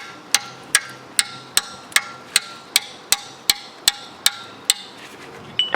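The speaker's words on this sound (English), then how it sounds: "I'm going to hit it with a hammer to loosen it." Hammer striking a corroded drop plate on a MK4 GTI. About a dozen sharp metallic strikes land at a steady, roughly even pace, each one close and ringing briefly, with no talk in between.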